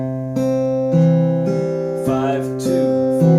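Acoustic guitar Travis picking at an eighth-note feel, the thumb alternating bass notes while the middle and index fingers pluck offbeat treble notes, in an even, steady rhythm played up close with no talking.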